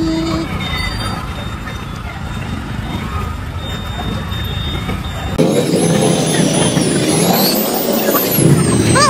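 Busy road traffic near a local market: engines rumble and trucks pass close by, an air brake hisses, and the noise builds louder partway through.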